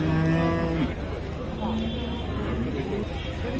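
Cattle moo loudly at the Kuzhalmannam cattle market in Palakkad, a long low call opening the clip and a second shorter one following, over a steady murmur of crowd chatter and voices.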